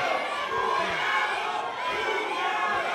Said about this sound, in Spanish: Se escucha y le gritan cuñado al hijo del pirata Morgan